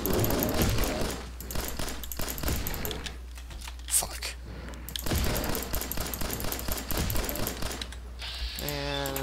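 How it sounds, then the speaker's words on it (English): Gunshots in the video game Fallout 4, a loud fusillade of rapid shots in bursts across the stretch, with game sounds and a voice talking mixed in. "Few shots to the head."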